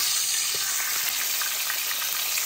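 Garlic cloves fry in hot oil for a Jamaican dinner, a dense, steady sizzle with fine crackling that stays close and loud throughout.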